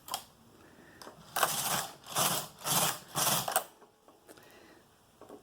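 A knitting machine carriage slides back and forth across the bed knitting rows of a hair scrunchie, giving four rasping, swishing passes in a steady rhythm, close and fairly quiet, with no talk.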